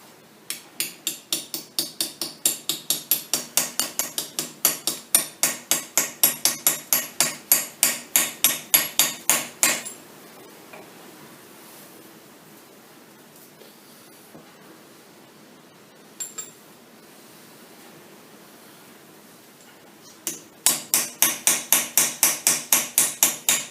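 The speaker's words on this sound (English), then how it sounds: "I've just got a little dolly here out of aluminium just to tap the race in." Rapid rhythmic metallic tapping as an aluminium dolly drives a bearing race into a spindle housing, two bursts of a dozen or more sharp close blows separated by a quiet pause with a few faint clinks.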